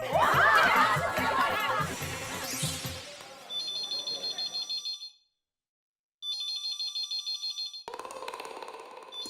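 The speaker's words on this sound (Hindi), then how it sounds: "दया फोन क्यों नहीं उठा रही है?" A telephone rings unanswered in repeated electronic trilling bursts separated by a silent gap, following a stretch of laughter and chatter at the start.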